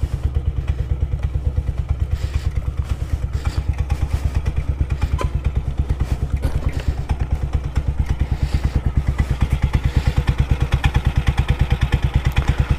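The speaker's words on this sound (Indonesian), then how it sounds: "kalian bisa dengar mungkin suara mesinnya" Yamaha Aerox scooter with a 200cc bore-up engine idles while warming up, a steady close, throbbing exhaust pulse with light mechanical clatter, running continuously and alone.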